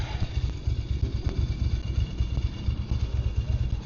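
A Yamaha R1 Street Fighter motorcycle, a 20-year-old bike, rumbles steadily up close with a deep, continuous pulsing engine note as it sets off.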